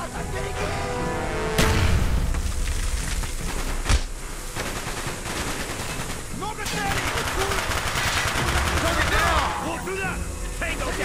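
Rapid gunfire, automatic bursts and booming explosions from the video game Call of Duty: Black Ops fill the scene, with voices speaking over the loud, continuous shooting.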